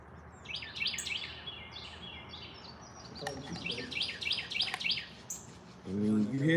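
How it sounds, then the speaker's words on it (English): Birds chirp in repeated short bursts of high, bright tweets, somewhat distant, with a low voice or hum entering near the end. "you hear the birds chirping"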